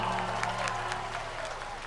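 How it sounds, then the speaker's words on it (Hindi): An audience at a kavi sammelan poetry recital in Varanasi bursts into sustained, loud applause, a dense wash of clapping that gradually eases. "एक बार तालियां बजा दो जोरदार"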